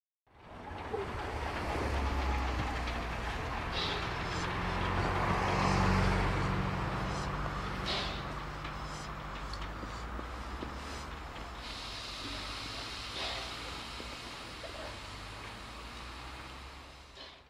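A steam locomotive, built in 1901 and restored in 1983, runs along a Swiss branch railway, its broad low rumble and rolling noise holding steadily for the full stretch at moderate distance.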